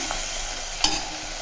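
Okra sautéing in a hot pan with rock salt, a steady sizzle punctuated by one sharp scrape of stirring partway through.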